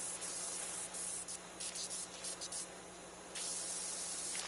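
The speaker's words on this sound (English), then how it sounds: "let me go over here and try to spray all these pets" A pressure washer sprays in Power Wash Simulator 2, aimed at stuffed animals on a wall, giving a continuous loud hissing jet with a low steady motor hum beneath and brief dips as the spray starts and stops.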